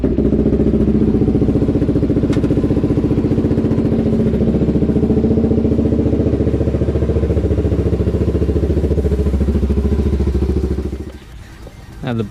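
A warmed-up 2001 Suzuki DR-Z motorcycle engine idles steadily and loudly close by with a thumping rhythm, then cuts out near the end.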